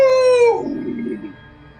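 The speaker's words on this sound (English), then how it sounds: "like a wolf howling, but it sounds wrong and a little weird for some reason" An eerie wolf howl sounding off and strange, a loud sustained high note that drops and dissolves into a fading, breathy tail, heard alone.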